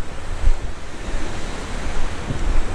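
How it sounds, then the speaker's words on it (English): Sea waves breaking on a shore at the turn of the tide on a misty night, a continuous rushing surf with low rumbling swells and gusty wind buffeting the microphone. "I can hear the turn of the tide here."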